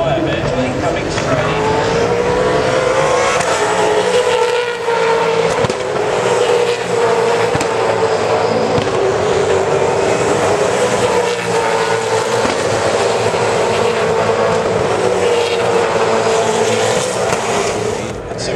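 V8 Supercars race cars roar into the pits during a flurry of pit stops at the 2012 Australian Grand Prix, a loud sustained engine drone filling the clip beneath a commentator's voice.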